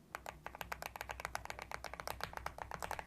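Fast typing on Gateron Strawberry Smoothie keyboard switches gives a quick run of deep, thocky key clacks with a low ring, close up and steady, with no voices.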